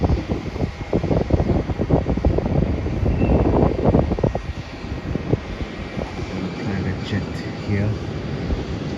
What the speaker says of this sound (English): After that, the flight from Kuala Lumpur will be landing